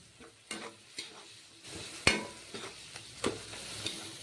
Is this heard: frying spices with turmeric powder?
yes